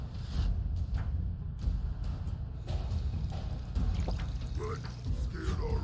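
Running water in the Fallout 4 video game, a continuous low splashing and pouring wash heard close, with scattered clicks and game sounds on top.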